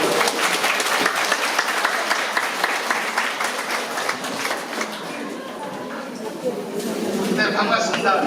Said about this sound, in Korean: 박수로 함께해주십시오.